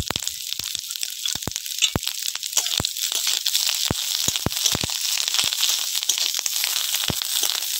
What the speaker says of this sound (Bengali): আমি তেঁতুলকে ভালো করে চটকে টক জল বের করে নেব।